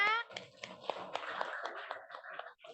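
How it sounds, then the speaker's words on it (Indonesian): A classroom of students claps for a group that has just presented, a short burst of quick, uneven hand claps close by, with a voice audible at the start and a light tapping rhythm running through. "Ya, tepuk tangannya."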